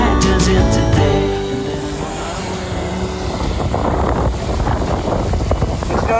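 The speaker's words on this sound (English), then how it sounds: "Well, there's wind" Strong wind roars and buffets across an outdoor scene, a loud continuous rush with gusty fluctuation and no voices.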